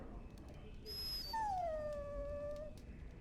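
A dog whimpers in the fantasy video game Dragon Age Origins, a single drawn-out, falling whine lasting about a second over quiet background ambience.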